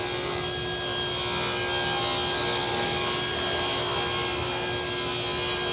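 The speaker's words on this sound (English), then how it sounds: "I'm going to cut it and see what we get" A table saw fitted with a rip blade cuts through wood to make a long tapered jig, a loud continuous grinding whine of blade in wood lasting several seconds, close by with no talk.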